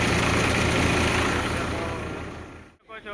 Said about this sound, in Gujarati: જો ટ્રેક્ટર કેવડું છે ભાઈ